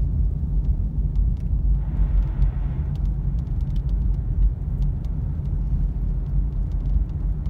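Cars driving on a road in light snow around Big Bear Lake, California, a steady low rumble of traffic and tyres with a brief swelling pass, continuous and moderately distant.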